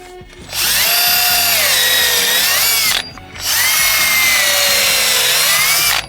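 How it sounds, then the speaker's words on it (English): Two long bursts of a high-pitched power drill whining as it pre-drills holes in wood for a campervan cabinet, separated by a brief pause, loud and close. "So I'm gonna want to pre-drill a hole here, here, and then on these 2 sides."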